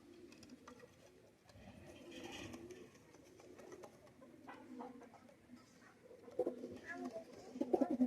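Kaldam pigeons, an Oman Teddy pair, coo softly in a small group, low burbling calls rising and falling with scattered rustles and clucks, fairly quiet and close.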